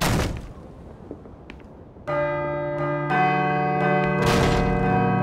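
A church bell tolls in the video game Call of Cthulhu: Dark Corners of the Earth, struck about three times after a low rumble. Each loud, close strike rings on in a long sustained hum, with no talking.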